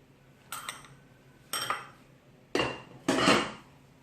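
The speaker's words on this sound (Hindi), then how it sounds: "इस शुगर को ऐड करके अच्छे से मैं मिक्स करूँगी।" Sugar is mixed into brownie batter of oil and other ingredients, heard as four distinct scraping, clinking strokes of a utensil against a bowl, spaced about a second apart and growing slightly louder, with no talk.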